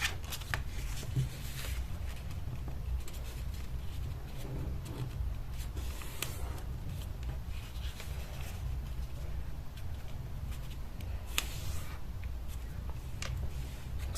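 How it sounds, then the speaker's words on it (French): Paper crinkles and creases as it is folded into an origami Halloween pumpkin, close soft rustles and crisp flicks continuing steadily throughout. "je vais ouvrir les papiers comme ça et je vais rentrer le pli ici"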